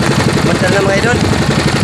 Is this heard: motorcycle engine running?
yes